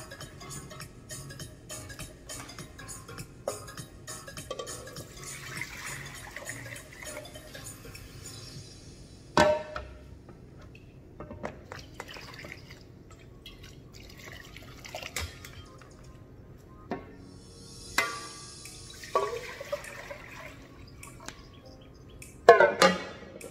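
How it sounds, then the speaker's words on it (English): Rice being rinsed with water while cooking Ofada rice, with quiet swishing and trickling water, scattered drips, and a few louder splashes and clinks from the bowl. "going to rinse it again with some water."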